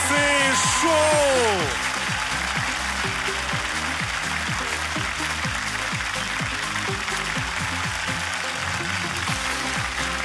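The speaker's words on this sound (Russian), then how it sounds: "Громогласные овации" Loud audience applause rings out for the winner of a senior talent show superfinal, a dense sustained clatter of clapping that runs the whole stretch, with music tones fading early.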